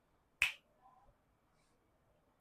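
Finger snaps ring out alone in a quiet room, one sharp crisp snap near the start and another at the very end.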